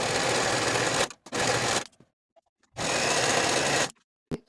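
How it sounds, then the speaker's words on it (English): A serger finishes the outer edges and curves of fabric pockets in three loud, steady, close runs of stitching, with short quiet gaps and faint handling clicks between them. "Take your pockets to your serger and finish the outer edges as well as the outer curves, and do this for all 4 pockets"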